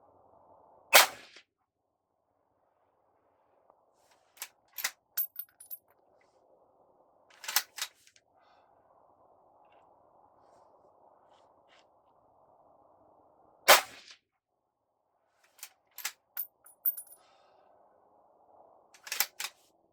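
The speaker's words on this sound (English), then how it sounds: "I'll be firing 6 strings of 5 shots each at 100 yards" A Ruger Precision Rifle fires at a 100-yard target, producing a few sharp, isolated cracks spaced seconds apart, each followed by quick mechanical clicks, over an otherwise quiet outdoor hush.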